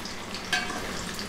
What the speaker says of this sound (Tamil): இதில் வந்து நம்மளோட சிக்கனை கொஞ்சம் கொஞ்சமாக சேர்த்து பொரித்து எடுத்துக்கலாம்.